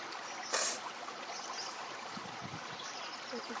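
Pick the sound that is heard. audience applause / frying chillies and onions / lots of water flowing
lots of water flowing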